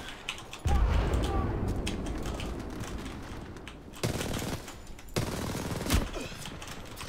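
Gunfire from several players in a video game, heard as a dense, continuous barrage of shots with a few louder bursts standing out, steady and fairly loud throughout.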